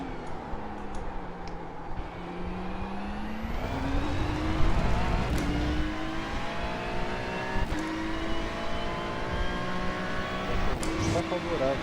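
Ferrari race car engine in the Ferrari Challenge video game, a steady revving drone with rising and falling pitch sweeps as gears shift, with a player talking over it throughout.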